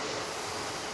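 An outer-loop Osaka Loop Line train waits at Tenma station in Osaka on a weekend morning, giving a steady, even rumble and hiss that holds for the whole second with no voices.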